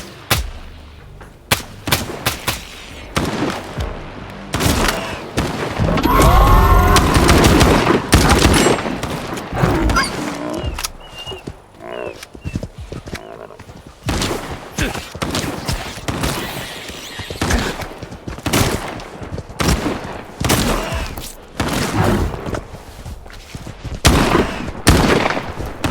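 Heavy gunfire in the shooter game Stalker 2, with loud bursts of automatic fire and single shots arriving in irregular clusters, a dense sustained barrage near the middle, then scattered sharp cracks toward the end.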